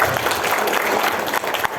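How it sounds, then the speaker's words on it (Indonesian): An audience at an Indonesian education gathering claps for West Sumatra, a dense burst of applause filling the short moment at steady loudness. "Tepuk tangan ke Sumatera Barat."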